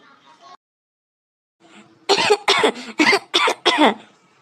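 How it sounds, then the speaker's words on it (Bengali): Five sharp, forceful coughs in quick succession from a person with a fishbone stuck in the throat, loud and close, after a brief faint murmur and a pause. "তুই ক্লাসের মধ্যে ওরকম করে কাশছিস কেন রে?"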